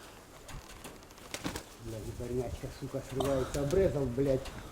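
A pigeon cooing close by in a few repeated throaty phrases, fairly quiet, with some faint background noise and brief clicks.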